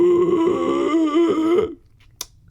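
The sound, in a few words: ingressive phonation, singing while inhaling, very low bass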